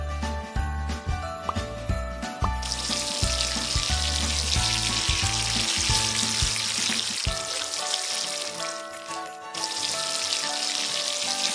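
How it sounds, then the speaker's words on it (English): A steady rush of water rinses soap off a character's hair in a Christmas-themed kids' hair salon game, a continuous hiss running over light game music and chimes. "Now, wash the soap off."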